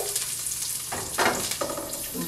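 Chilies and masala powder sizzle steadily in a hot pan while a gongura dish is cooked, giving a close, continuous frying hiss with a few louder crackling bursts and no talking.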